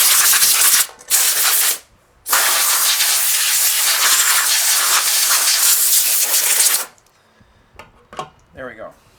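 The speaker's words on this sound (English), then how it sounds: "First thing we're going to do is blow off the debris." Compressed air blasts debris off an Echo chainsaw in loud hissing bursts: a short burst, a pause, then a long sustained blow that stops abruptly, followed by faint handling sounds.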